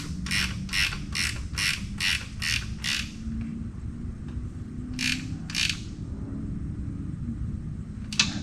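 A ratchet wrench clicks in quick rhythmic bursts while bolts are tightened on a vehicle, with a run of about seven strokes followed by a pause and then two more, up close over low background rumble.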